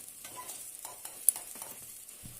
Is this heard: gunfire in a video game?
no